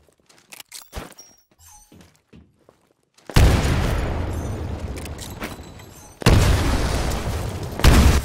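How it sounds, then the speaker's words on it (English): Grenades thrown through windows in Titanfall training go off in three heavy, close explosions: the first a long rumbling blast, then a second roaring boom and the start of a third, after quiet clicks and taps. "Throw a grenade into each of the windows."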